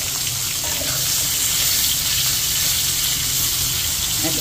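Potatoes and pointed gourd fry in white oil, a continuous close hissing sizzle that stays even and dense throughout.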